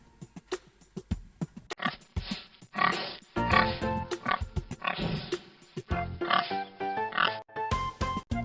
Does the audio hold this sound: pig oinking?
yes